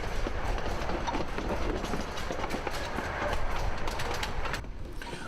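A train on Scarborough's Miniature Railway runs along the track with a steady, continuous rumble and rhythmic rattling throughout, fairly close and loud with no talking.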